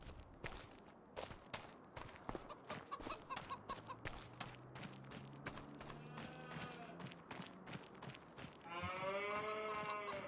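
Cattle mooing among farm animals in Farming Simulator 25, low drawn-out calls layered with chicken clucks and footsteps, several moos overlapping mid-clip and a louder burst of animal calls at the end.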